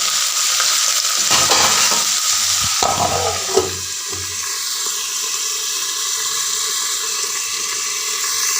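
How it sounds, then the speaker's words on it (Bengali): Onions with bay leaves frying in a pan make a loud, close sizzle with some stirring and scraping early on, then settle into a steadier, softer frying hiss, with no voices. "পেঁয়াজটা তো ভাজা ভাজা হয়েছে"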